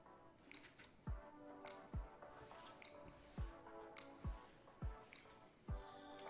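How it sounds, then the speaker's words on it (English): Water dripping in slow, regular drops, about seven distinct plinks spaced under a second apart, faint and close against a quiet background. "Sounds like water."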